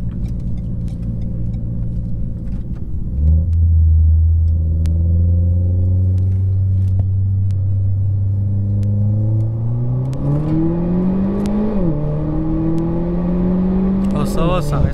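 A car engine revs with an AliExpress exhaust valve open, a loud, close rumble rising and falling in pitch across several throttle blips, with a person talking briefly.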